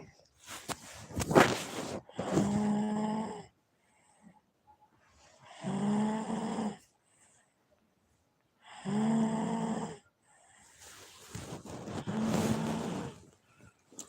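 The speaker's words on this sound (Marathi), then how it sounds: "कोण घोरत आहे" A person snoring inside a small home, four drawn-out rasping breaths at a steady rhythm, each lasting about a second, with quiet pauses in between and a brief burst of other noise near the start.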